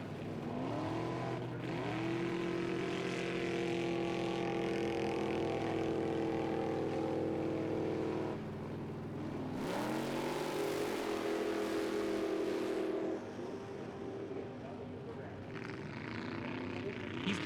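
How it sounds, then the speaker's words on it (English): A 2005 Ford F250 pickup with a 448 stroker engine races up hills in a 4x4 truck event, its engine roaring and revving hard in repeated rising pulls, loud and close throughout. "He's driving a 2005 F250 with a 448 stroker under the hood, and he's taking no prisoners."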